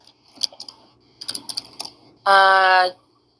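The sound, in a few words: typing on a computer keyboard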